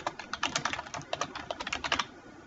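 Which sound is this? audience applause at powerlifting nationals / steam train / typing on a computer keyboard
typing on a computer keyboard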